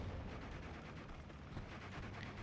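A 57 mm anti-tank cannon fires in the World War II strategy game Steel Division 2, dense booming gunfire and rumbling battle noise filling the whole stretch at a steady, faint level with no talk.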